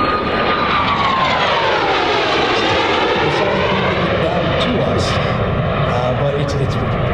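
A Gulfstream G3 jet flies past at Edwards Air Force Base during a NASA sonic boom demonstration, its loud engine roar steady and a falling whine sweeping downward as it passes, with people talking underneath.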